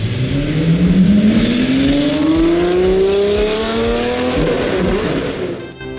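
A luxury car drives past on a street in Ginza, Tokyo, its engine loud and close, revving up through rising gears and then fading away, with no talk.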